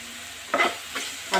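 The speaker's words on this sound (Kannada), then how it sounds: "ಹಾಕ್ಕೊಂಡು ಸ್ವಲ್ಪ ಫ್ರೈ ಮಾಡ್ಕೊಳ್ಳೋಣ" Vegetable sandwich filling fries in a pan with pepper powder and chaat masala, three short bursts of stirring and scraping rising over a steady low sizzle, close and fairly quiet.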